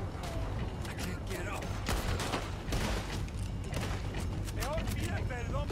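Rifle shots and gunfight clatter from Red Dead Redemption 2, dense bursts of gunfire with mechanical clicks over a steady game background, loud and continuous throughout.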